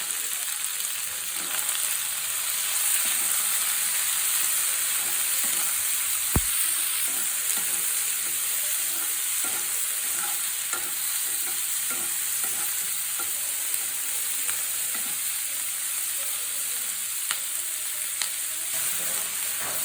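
Red and green capsicum, onion and tomato frying in a spoonful of oil in a kadai, a continuous bright sizzle with occasional stirring scrapes and clicks over twenty seconds, without talk.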